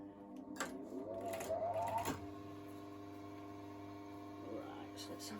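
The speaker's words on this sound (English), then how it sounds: "I'm going to be stitching down the crutch" A domestic sewing machine stitches down the crotch of trousers made from an oversized dress, a close mechanical whir in a short run followed by lower hum and faint handling noises.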